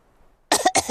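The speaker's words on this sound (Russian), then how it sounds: "все взрослые заразились кашлем от Педро" Two quick, sharp coughs in close succession from a cartoon character in Peppa Pig, loud and near after a moment of near silence.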